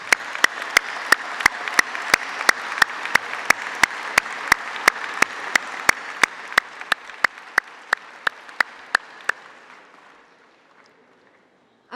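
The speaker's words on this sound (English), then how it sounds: "I think you need another round of applause." A room of graduates at a business-school ceremony in Paris gives a round of applause. The dense clapping has sharp, evenly spaced claps standing out, then thins and fades to near silence.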